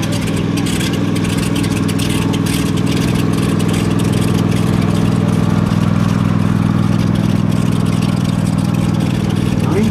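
A 450-horsepower air-cooled radial aircraft engine at an airshow aerodrome runs steadily and loudly with a deep, even clattering drone that holds for the whole stretch without breaks.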